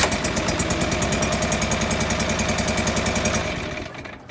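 A John Deere 445 engine idles with one coil pack unplugged, running on a single cylinder with a loud, steady, evenly pulsing chug close by, then fading at the end.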